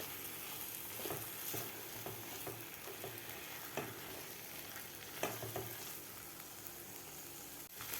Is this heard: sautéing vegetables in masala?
yes